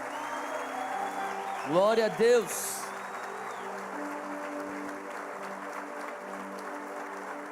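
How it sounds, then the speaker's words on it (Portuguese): Congregation applause at a church revival service, a steady broadband patter of clapping throughout, with a preacher's voice rising over it briefly in the middle. "Você consegue dar uma salva de palmas para Jesus?"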